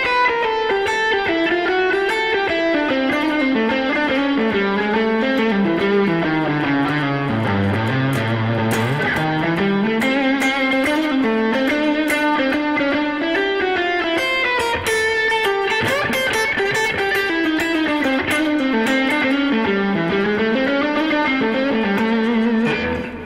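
Distorted electric guitar plays continuous melodic lines that wind up and down using passing tones outside the scale. It is loud and sustained, with no talking.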